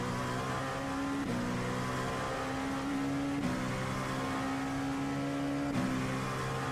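A race car engine in the iRacing simulator holds a steady high-pitched drone, with quick gear shifts at regular intervals as it climbs through the revs, heard alone without talk.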